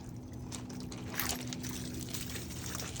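Water from a garden hose topping off a mosquito trap: a soft, steady pouring and trickling that runs for about three seconds, faint and close, with no speech.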